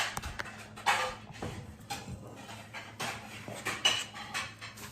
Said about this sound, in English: all I'm going to do is use a cookie scoop